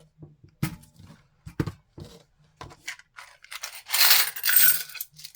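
Coins drop one after another into a small tin in a quiet room, giving a run of sharp metallic clinks and rattles that ends in a louder jingling shake.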